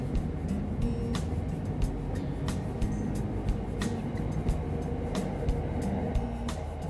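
A steady low rumble of a Bangkok suburban electric train on the Red Line running along the rails, with regular clicks and clacks from the wheels over track joints, heard from inside.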